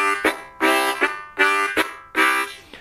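A blues harmonica plays with tongue articulation, giving three rhythmic chugging phrases, each a long breathy chord followed by a short accented note, loud and close with no talking.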